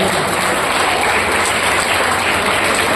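Dense, sustained clapping from a large audience at a yoga event gathering, loud and even throughout with no break.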